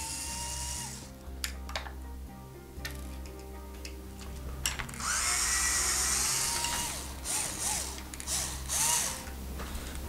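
Electric speed driver backing screws out of the ESC mount on an Arrma 6S RC car chassis, with bursts of whirring and rapid ratcheting ticks between short pauses, close and fairly quiet.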